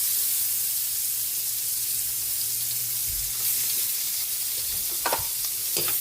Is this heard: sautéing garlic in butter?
yes